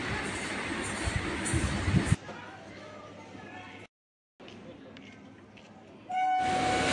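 A Bardhaman–Sealdah local train at Memari railway station starts with a loud rolling rumble for about two seconds, then fades to a quieter hum with a brief dropout, and a steady tone rises near the end.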